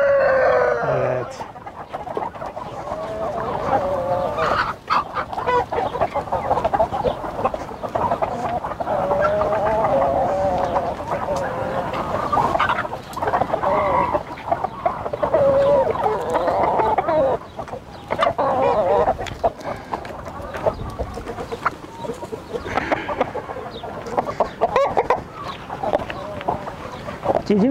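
Chickens and chicks cluck steadily and continuously in a coop, with a rooster crowing now and then, close and fairly loud throughout, with occasional human voices mixed in.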